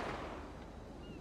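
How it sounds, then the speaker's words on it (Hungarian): A single loud gunshot booms in GTA V roleplay, a heavy blast at the start that rolls off into a rumbling decay over about a second. "Lövés utca felett."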